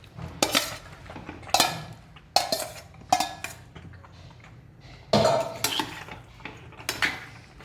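Cooked macaroni being stirred into a pan of white cheese sauce: a utensil scrapes and clinks against the metal pan in repeated loud strokes, close up, with no talking.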